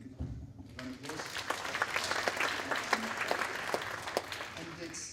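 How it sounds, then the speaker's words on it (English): Guests at a retirement party break into a round of applause, a full crowd clapping steadily for several seconds with a few louder individual claps standing out and some voices mixed in underneath. "To give a good round of applause."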